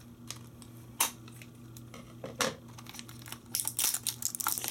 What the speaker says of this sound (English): So let me use my scissors real quick.